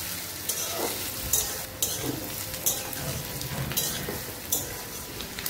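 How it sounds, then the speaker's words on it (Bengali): Onions and garlic frying in a pan for Bengali chicken kosha: a dense, continuous sizzle with periodic scraping stirs every second or so, close and steady, no talking. "এবার এটাকে আমরা ভালো করে কিন্তু লাল লাল করে ভাজতে থাকবো।"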